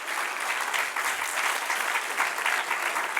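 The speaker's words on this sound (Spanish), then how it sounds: "Da un aplauso al Señor." Church congregation applauding during a pastor's Old Testament history class, a dense, even wash of many hands clapping that holds steady throughout, with no talk over it.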